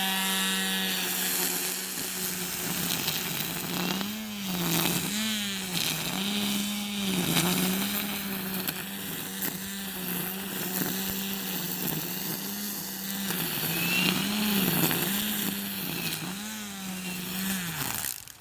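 An EGO 56V battery-powered weed trimmer with a 15-inch cut diameter runs loud and close, its steady motor whine dipping and swelling in short repeated pulses.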